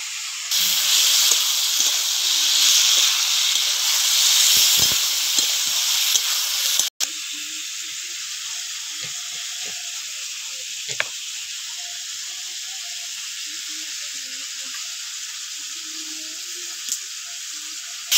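Water spinach fries in a pan with a loud, close, continuous hissing sizzle for several seconds, then fades to a quieter, steady simmer with occasional faint clicks.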